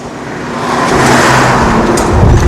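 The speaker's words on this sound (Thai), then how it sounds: "โอ้ รถปูน" A cement mixer truck passes nearby with a steady, broad road roar that swells into a heavier low rumble toward the end. No one speaks over it.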